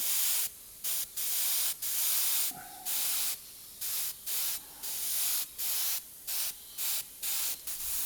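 An airbrush spraying paint while working on a dragon illustration gives short, close hissing bursts of air and paint, repeated in an uneven stop-start rhythm with brief silences between them.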